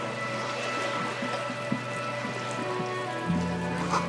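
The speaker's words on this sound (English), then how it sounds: "And the rain ambiance." Steady rain ambiance from the video game Disco Elysium, a continuous soft wash of falling rain with low droning tones underneath, constant and even throughout.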